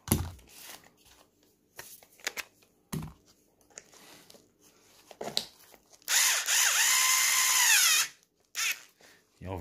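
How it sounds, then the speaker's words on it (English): A battery screwdriver drives screws in a short whirring burst of about two seconds, following scattered clicks and handling knocks nearby. "You obviously don't over tighten them with a battery screwdriver"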